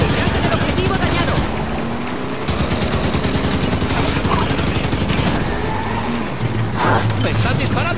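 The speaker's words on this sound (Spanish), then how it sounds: "¡Están disparando al Warhawk!" Rapid gunfire at a Warhawk aircraft during a Halo 5 combat mission, dense bursts of shots and explosions running continuously over a loud battle din, with voices shouting throughout.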